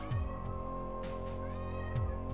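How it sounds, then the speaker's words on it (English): Purdy the cat meows in a repeated, wavering cry with a tonal drone running beneath, heard up close with no talking. "Purdy, no! Stop meowing."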